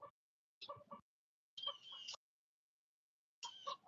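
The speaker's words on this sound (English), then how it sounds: "excuse all the noise and birds out here" Chickens cluck outdoors in short separate bursts, with a few quick clucks, then longer squawky calls and a pause before another, fairly close and fairly quiet, with no talking.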